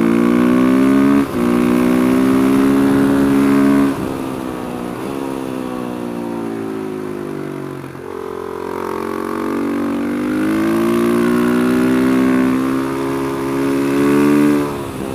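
A Corvette sports car's engine revs hard on a track, rising and falling in long sustained pitch sweeps, loud and steady throughout with no talk over it.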